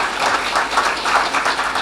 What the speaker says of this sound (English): a huge round of applause to the executive panel for coming up here tonight